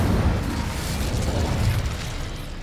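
A fire spell cast in Hogwarts Legacy sends out a sustained, loud whooshing burst of flame with a deep rumble underneath. It roars steadily for a few seconds with no voice over it.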